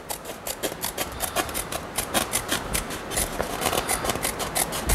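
Scissors snip steadily through fiberglass in rapid, rhythmic strokes, a crisp close-up cutting sound that repeats without pause.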